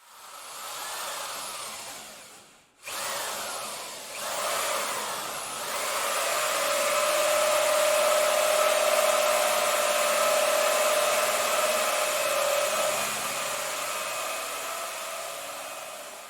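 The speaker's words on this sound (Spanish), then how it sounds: "Cuando se inicia la perforación también debe de ser con suavidad." Power drill boring into a layered wooden hollow-core door, a steady loud whine that briefly cuts out, restarts and settles into a sustained droning bore lasting several seconds before easing off.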